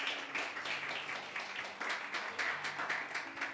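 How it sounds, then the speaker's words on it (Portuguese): A church congregation claps together in praise for a member, a dense, steady patter of many hands with irregular surges, fairly close and continuous throughout. "Vamos aplaudir ao Senhor, irmãos, pela vida do Pedro"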